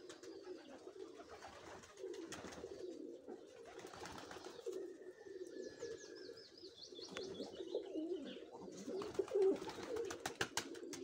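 About 60 pigeons coo in low, rolling calls that continue steadily, with occasional chirps and a thin whistle from other birds in the background.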